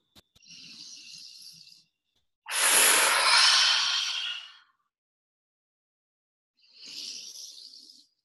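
A single deep breath drawn in during a quiet meditation, with a soft breath before it, a long loud airy inhale and a gentle exhale trailing after, all close and alone.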